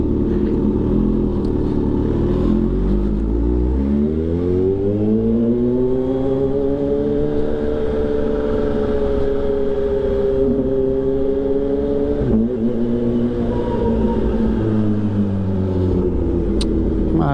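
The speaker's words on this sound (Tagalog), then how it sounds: "hindi na naman nakakahiya yung engay ng bike natin ngayon" A motorcycle engine revs up and holds a high, rising then falling tone, loud and close, with a steady low rumble under it and no talk.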